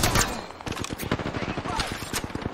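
Rapid gunfire from an Apex Legends match, a dense stream of sharp shots with bursts and single cracks, loud and close, with player voices talking over it.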